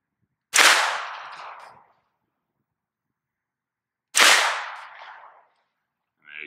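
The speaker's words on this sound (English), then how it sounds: "Just run a few rounds through it in the chronograph." Two sharp, loud 9mm shots from a Wilson Combat AR9 carbine using 115 grain rounds, spaced about three and a half seconds apart, each with a short echoing decay outdoors, and the edge of a third shot at the very end.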